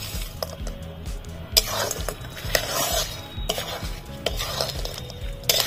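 Jaggery and sugar stirred into apple chutney in a pan: repeated scraping and clinking of a spoon against the pot, with a soft sizzle underneath, close and fairly loud, no talking.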